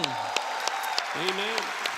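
An audience at a church service claps to welcome a guest speaker, a soft, evenly spaced rhythmic clapping under a prominent voice.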